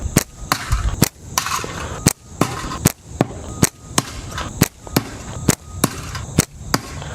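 Slingshot shots repeatedly striking cans hung in a homemade catch box, a sharp metallic crack landing roughly every half second, close and fairly loud with no talk.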